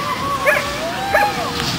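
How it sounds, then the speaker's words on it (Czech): A small dog yips and whimpers in short high bursts, close by, with faint outdoor background. "No ale to je nějaký vědomilovný pejsek."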